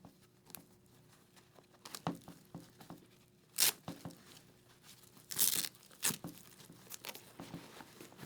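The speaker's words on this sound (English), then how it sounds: "you will then undo the Velcro" Quiet ripping and rasping bursts of Velcro being pulled apart on a motorcycle race suit come in irregular pulls, a few sharper tears standing out, close by against a faint background hum.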